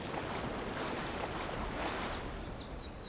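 Ocean waves in the video game Avowed wash steadily in a soft, broad rush of surf and wind, continuous and fairly quiet with no voices.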